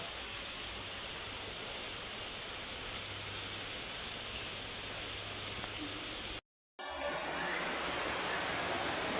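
Steady rain pouring down in a dense, even hiss with no other sounds, briefly cutting out near the end before resuming just as heavily.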